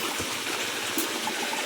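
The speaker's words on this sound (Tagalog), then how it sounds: "Dati ang laki ng sapa dito. Tubig ngayon ay maliit na lang." A small, low-flowing countryside creek in the Philippines gives a soft, steady trickle and wash of water, faint and close, with no voices.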